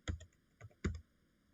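Someone types a command into a computer keyboard while configuring a network switch, three short bursts of close, quiet key clicks separated by brief pauses.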